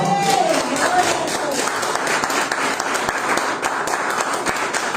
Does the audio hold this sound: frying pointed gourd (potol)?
no